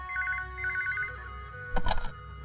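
A telephone rings in a dubbed South Indian romance film, with repeated electronic trills at a steady moderate level and no talk, followed by a louder burst near the end.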